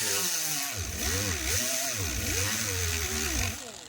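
A power tool grinds down the broken handle of a power saw, its motor whining steadily and loudly up close and swelling and easing in pitch for several seconds before trailing off.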